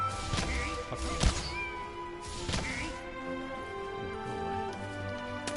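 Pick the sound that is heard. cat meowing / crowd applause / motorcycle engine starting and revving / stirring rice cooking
cat meowing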